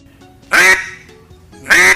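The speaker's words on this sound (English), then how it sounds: "Duck." A duck gives two loud, close quacks about a second apart, each short and nasal, with quiet background between them.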